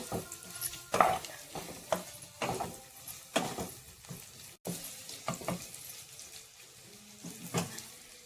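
Ground green chili being sautéed and stirred in a pan for sabudana khichdi, with a low sizzle broken by repeated scraping strokes of a spoon at a steady rhythm, close and moderately quiet.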